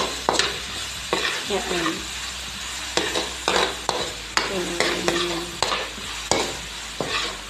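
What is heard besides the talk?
sautéing garlic and onion in a little oil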